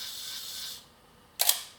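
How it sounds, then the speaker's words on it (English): Cosina CSM camera shutter releasing: a sustained winding whir, a pause, then a sharp loud mechanical click-clack with a smaller click just after. "push it, the shutter, engage it fully, and then you make the picture"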